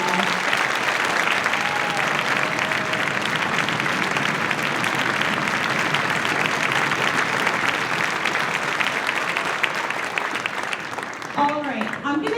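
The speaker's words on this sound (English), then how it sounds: "So please, a round of applause again for Mr." Loud, sustained applause from a large school concert audience for the directors of an upper elementary orchestra, dense clapping holding steady before thinning out near the end, with a few voices rising at the close.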